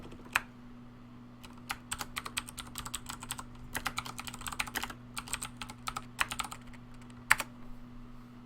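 Keys on a computer keyboard clatter in uneven bursts of sharp clicks during a strategy game session, fairly close, with a steady low electrical hum underneath and no talking.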